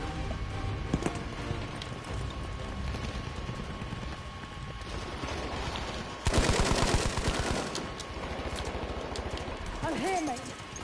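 A Breda M1935 PG machine gun fires in bursts in Battlefield V multiplayer, repeated rattling rounds with a heavier volley midway, under steady talk from a player.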